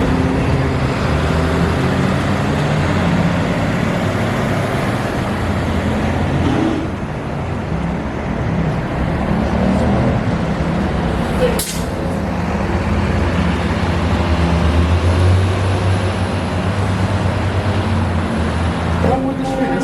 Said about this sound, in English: as you can hear, we're catching SkyTrain